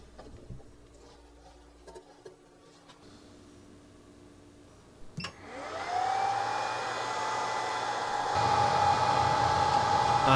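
A BGA rework station blows hot air onto a Vizio M65-E0 TV's processor: after a few soft clicks and handling noises, the blower starts with a rising whine and settles into a steady, loud rushing hiss with a sustained tone.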